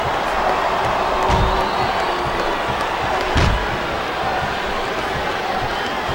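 A capacity arena crowd roars and cheers steadily at a wrestling match in WWE Smackdown vs Raw 2008, a dense wash of noise with one brief thump partway through.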